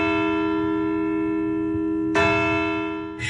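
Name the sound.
ringing church bells recording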